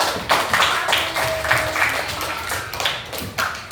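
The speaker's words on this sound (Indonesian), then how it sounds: "tepuk tangan buat teman-teman" Children in a sixth-grade maths classroom clap for their classmates, a short burst of scattered, uneven claps at moderate loudness with faint background voices.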